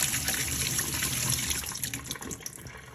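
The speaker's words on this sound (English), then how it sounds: "Drain the beans and rinse them with cold water." Cold tap water runs steadily into a kitchen sink as drained beans are rinsed, a close, continuous splashing hiss that eases slightly toward the end.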